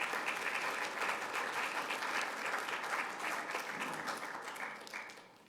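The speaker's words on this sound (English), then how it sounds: "you all a round of applause." Worship-service audience applause, a dense, even wash of many hands clapping throughout, tapering slightly toward the end.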